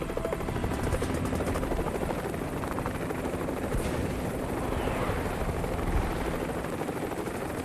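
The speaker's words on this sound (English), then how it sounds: "Today at Quantico, HMX helos are dropping an assault team by fast rope." HMX Marine helicopters hover at Quantico while an assault team drops by fast rope during a training sortie, giving a steady, loud rotor roar with no letup.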